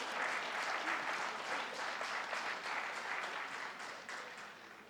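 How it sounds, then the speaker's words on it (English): An audience at a conference leadership panel gives a long round of applause, dense and even clapping that fades slightly toward the end, heard at a distance in a large hall. "I would like you to give an acknowledgement by a resounding applause to Padma Shri"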